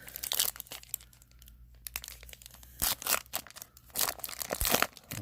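Foil wrapper of a 2020 Topps Gypsy Queen baseball card pack crinkling and tearing open in several loud, close bursts separated by short quieter gaps, with no talking.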